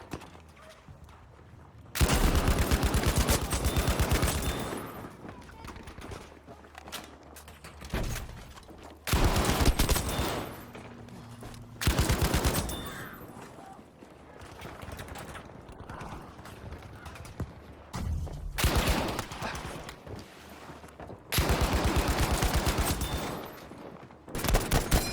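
Bursts of automatic weapon fire in Battlefield V, loud clusters of rapid shots separated by quieter stretches of battlefield ambience over about twenty-five seconds.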